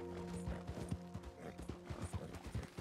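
Horse in the video game Red Dead Redemption 2, with irregular clip-clopping hooves close by and a soft neigh mixed in, moderately quiet against a faint background.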